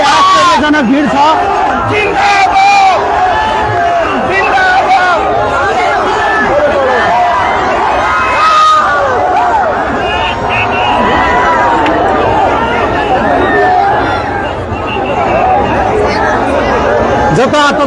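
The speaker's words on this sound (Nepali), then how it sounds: "यो भीड़ देख्दा आश्चर्यजनक भीड़ छ।" A huge, dense crowd at a nomination filing rally, thousands strong, roars and chants continuously throughout, with overlapping shouting voices forming a loud, sustained wall of cheering.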